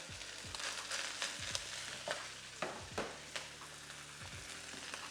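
Brown rice stirred and frying in oily hot pan for Mongolian beef, with a steady sizzle and repeated spatula scrapes at a moderate pace, close and without talk.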